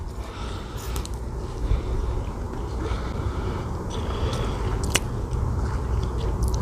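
Close-up eating of crab stick dipped in soy sauce, with soft repeated bites and chewing squishes, plus occasional sharper clicks, quiet and steady without talk.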